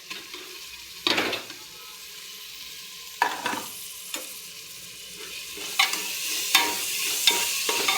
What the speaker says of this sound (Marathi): आता तांदूळ टाकूया परताना